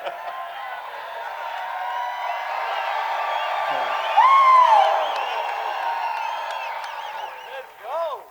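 A crowd at a UFC 247 pre-fight press conference for the main-event bout cheers and whoops steadily, a loud swell of shouts in the middle and a sharp whoop near the end, with speech mixed in.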